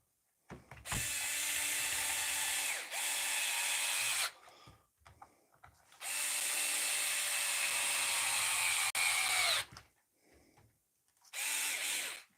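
A repaired Dewalt SDS drill motor runs in several loud bursts of steady high-pitched whine and mechanical rattle, each spinning up and cutting off, with short silent gaps between runs.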